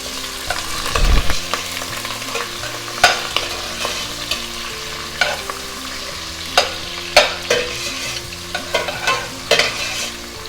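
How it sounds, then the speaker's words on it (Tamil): Onions sizzle and fry in a pan for mutton kurma, with a steady hiss broken by repeated sharp scraping stirs of a spoon against the pan, close and loud, no voices. "இப்போ ஆனியன் போட்டுக்கலாம்."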